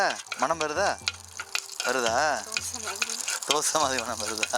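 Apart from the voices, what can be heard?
urad dal and dried chillies sizzling in oil for tempering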